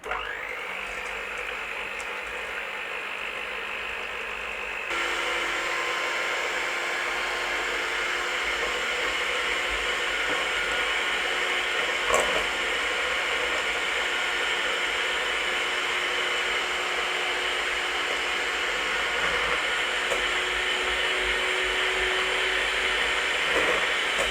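An electric hand mixer whips egg whites for Eton mess in a bowl, a steady close whirring drone that shifts pitch around five seconds and runs continuously with no talking.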